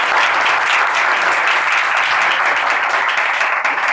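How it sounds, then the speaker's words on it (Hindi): Loud, dense applause fills a church congregation honoring Jesus, a steady wash of many hands clapping without pause from start to finish. "यीशु के लिए ज़ोरदार तालियां।"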